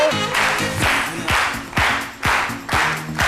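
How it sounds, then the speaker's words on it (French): A TV studio audience greets a guest on the set with rhythmic bursts of clapping, swelling about every half second over background music. "Merci de l'applaudir encore trop fort."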